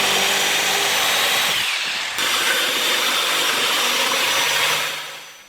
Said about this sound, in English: I grabbed my jigsaw and went ahead and cut them out.